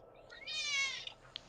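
A house cat gives one clear meow, a drawn-out rising and falling cry of under a second, moderately close and heard alone against faint room noise, followed by a couple of soft clicks.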